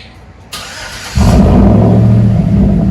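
A 2012 Chevy Avalanche 5.3L V8 with dual straight-pipe exhaust starts and roars up loud and close, settling into a steady, heavy rumble.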